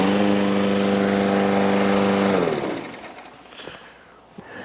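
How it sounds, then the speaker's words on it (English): A gas-powered lawn mower engine drones loudly and steadily at close range for a couple of seconds, then cuts out and winds down into quieter background noise. "the difference between this lawnmower and the Exxon Valdez is not much"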